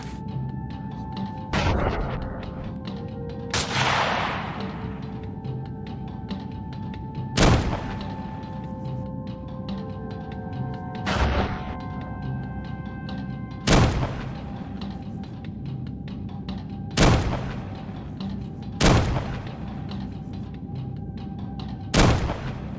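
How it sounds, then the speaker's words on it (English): Rifle shots crack out in a boar hunting video game, about seven sharp, loud reports spaced a few seconds apart over a steady ambient outdoor bed with faint musical tones. "I squeezed the trigger and dropped it with a precise shot to the neck"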